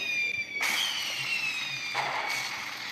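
A 2-gram firecracker goes off outdoors, a sharp loud bang followed by a bright crackling hiss, with a second burst of crackle about a second later, no voices.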